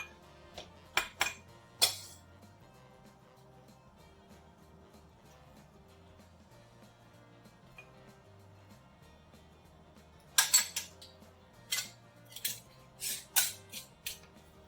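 Spiced quince chutney with cinnamon is spooned into hot, clean glass jars, giving scattered sharp clinks and taps in two bursts separated by a long quiet stretch, with soft music underneath.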